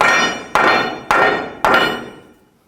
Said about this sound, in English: Try to hammer it in place.